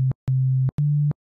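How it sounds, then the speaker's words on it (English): A Logic ES2 synthesizer oscillator plays a pure sine wave in three separate steady tones, each short and smooth with a soft click at onset and release, separated by brief silences. "Sine waves sound really smooth."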